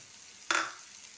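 Tomato dropped into a pan of prawn, potato and yam curry, setting off a short, sudden burst of sizzling that quickly fades back to quiet.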